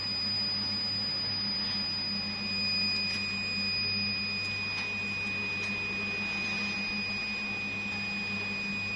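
A steady, high-pitched electronic buzzer tone, triggered by temperature passing 35 degrees, sounds without a break over a low mechanical hum.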